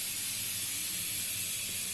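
Black cumin seeds sizzling in hot oil for tempering a spicy Pabda fish curry, a steady close hiss running continuously without a break.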